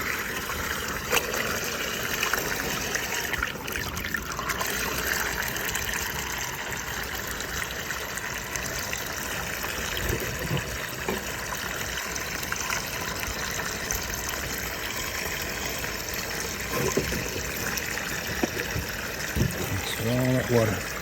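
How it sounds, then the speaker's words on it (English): Water gushes steadily out of a downspout just cleared of a clog on a house gutter with a sagging section. The rushing flow is continuous and close, with a voice talking over it. "All that water from down there clogged up, but now that'll relieve all that pressure on that sag"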